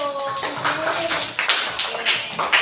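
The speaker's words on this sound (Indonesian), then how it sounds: "kelompok 1 tepuk tangan dulu buat kelompok 1" Fourth-grade elementary school pupils clap their hands in a classroom, a steady run of close, crisp claps with a few children's voices mixed in.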